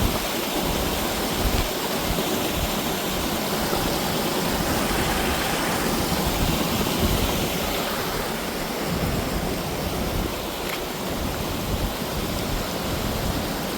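A river in a Nepali village rushes continuously in a steady, loud broadband roar, flowing fast close by, with no voices.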